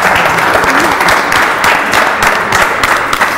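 Loud, sustained audience applause at a televised Italian singing show, a dense wash of clapping from a large crowd that continues at steady volume throughout.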